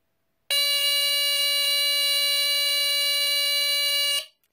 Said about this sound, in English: So that's the sound it makes.